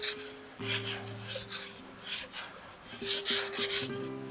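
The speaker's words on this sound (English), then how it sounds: "we're going to finish our fine sanding on those repair spots with this" Gentle back-and-forth rubbing strokes of fine sanding on repaired spots of chipped porcelain, repeating in bursts over a faint background hum.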